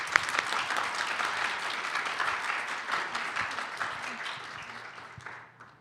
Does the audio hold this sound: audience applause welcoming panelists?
yes